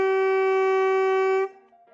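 A tenor saxophone holds a steady, bright high A for about a second and a half, then cuts off sharply and leaves a faint, soft tail.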